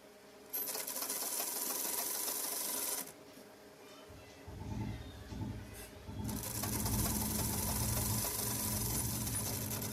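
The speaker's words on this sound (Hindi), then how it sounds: "उसी स्टिच पे डबल स्टिच करेंगे। दोनों साइड से हमें इसी तरह से स्टिच कर लेनी है।" Sewing machine running in long steady bursts while double-stitching lace onto the hem of a ladies' Pakistani-style trouser, with a short pause in the middle before it resumes loud and close.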